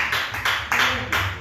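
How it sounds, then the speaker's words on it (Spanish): Church congregation clapping in a slow, uneven rhythm, four or five distinct bursts of applause rising and fading in a reverberant hall, fairly loud and close, no one speaking over it. "Démosle un aplauso al Señor Jesucristo."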